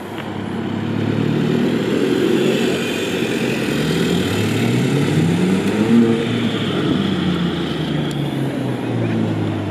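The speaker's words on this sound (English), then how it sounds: "Got a very loud Mondeo just coming in." A loud Ford Mondeo's engine rumbles steadily nearby, its low drone rising and falling slightly as it arrives at a car meet, with no voices over it.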